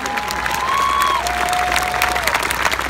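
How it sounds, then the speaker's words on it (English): A large crowd at a Million Man March anniversary rally breaks into sustained applause and cheering, a dense, steady wash of clapping with no letup, while a faint whistle-like tone glides through it. "would you give an overwhelming applause for every black man who's around you, for their strength and for their resilience."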